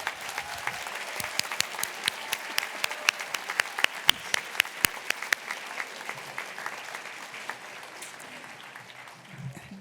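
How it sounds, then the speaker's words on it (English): An audience at a dual enrollment recognition ceremony applauds the graduating class of 2024, with sharp individual claps standing out over a lighter crowd patter that fades gradually toward the end. "Please give them a round of applause"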